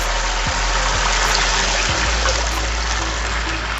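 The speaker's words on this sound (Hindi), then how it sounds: "अब इसमें हम 3 कप पानी ऐड कर देते हैं।" Water pours steadily into a pot of mutton kofta curry after yogurt has been fried in it, a continuous close rushing splash with a low hum underneath.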